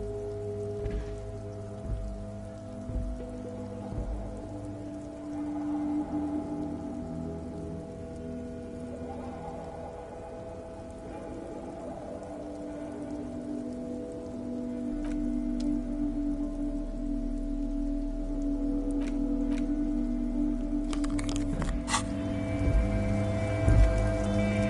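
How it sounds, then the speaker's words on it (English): Rain falls over the city of Rivershaw and drips from the eaves, a steady soft patter with scattered drops, accompanied by a low sustained musical drone that swells toward the end. "All around you, rain falls on the great city of Rivershaw. Rain drips from the eaves"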